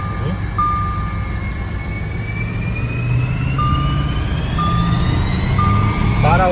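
A chipped Audi Q7 4.2 TDI diesel on the road accelerating hard, a loud steady engine drone with rising pitch through the gears, close and constant, with brief tonal beeps over it.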